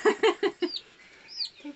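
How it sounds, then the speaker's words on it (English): Two-week-old Appenzeller Spitzhauben chicks peep and chirp close by, a quick run of four bright cheeps followed by a couple of softer, scattered calls. "here we are with the Appenzeller Spitzhaubens, and they are 2 weeks old"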